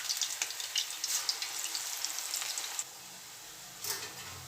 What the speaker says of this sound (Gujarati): ફેવરીને સરસ ગોલ્ડન થાય ત્યાં સુધી તળવા દઈશું